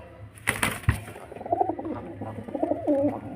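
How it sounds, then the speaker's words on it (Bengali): A male Giribaz pigeon coos close by in soft, rounded low calls, with a quick burst of wing flutter near the start. "এটা নর পায়রা"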